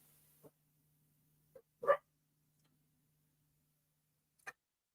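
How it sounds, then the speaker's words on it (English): A dog barking somewhere off at a distance indoors, three or four short, faint, isolated barks separated by quiet gaps over a low steady hum. "So there's a dog barking."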